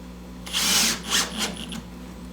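A power drill drives screws into an assembled reptile shelf rack, with two or three short whirring bursts and a brief stop between them, close and fairly loud in a quiet room.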